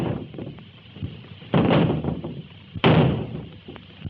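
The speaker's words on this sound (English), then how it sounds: "Help me get this door down." A door being forced down in a 1931 Sherlock Holmes film: two heavy bursts of impact against the door over a rumbling background, fairly close and loud.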